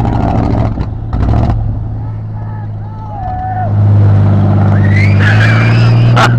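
A vehicle engine roars and revs hard while being pulled out of deep mud and water, a loud, close drone that surges louder toward the end, with people shouting over it.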